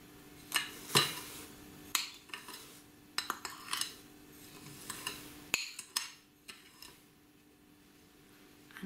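A utensil whisks meringue with sugar in a bowl, giving irregular metallic clinks and scrapes against the bowl, close and fairly quiet, with short pauses between bursts.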